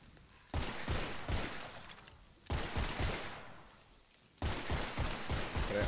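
Gun fired in the video game Witchfire, three loud bursts of rapid fire with short pauses between them, each burst lasting a second or more, close and dominant, with no voices.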